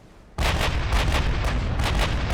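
Battleship main guns fire in the naval game Ultimate Admiral: Dreadnoughts, an abrupt heavy boom followed by a rapid series of rumbling blasts and thuds, loud and continuous with no talk.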